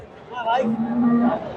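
Friesian dairy cows moo at a busy cattle market in Bogura, one long, loud low call rising over the steady murmur of the crowd.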